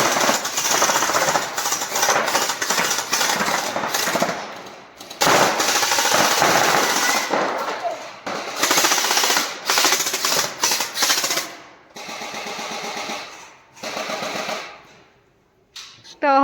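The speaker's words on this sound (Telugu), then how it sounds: "ఇక మనం ఇటు సైడ్ నుంచి షూట్ చేయొచ్చు గేమ్ గేమ్ అనేది చాలా ఫన్ అయితే అనిపించింది" Toy guns at a shooting game attraction in China fire in long rapid rattling bursts, loud and close, broken by short pauses and ending in quieter stretches.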